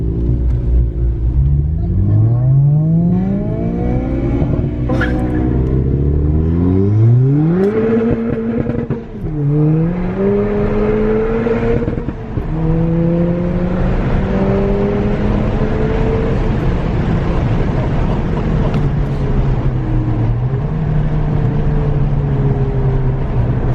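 A tuned Holden VT330R on a high-boost map accelerates hard down a road, its loud engine note climbing steadily through several gears with brief dips at each shift, heard close from inside without talk.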